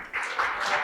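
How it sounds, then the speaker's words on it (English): Audience applause from seated participants at the end of a customer-insights team workshop activity, a broad steady wash of clapping lasting under a second without talk. "give yourselves a round of applause."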